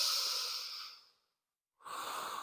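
Deep belly breathing during a yoga twist: a long, close, airy exhale fades out, and after a short silence a new breath begins.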